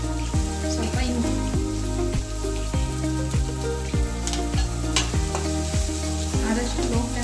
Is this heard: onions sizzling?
yes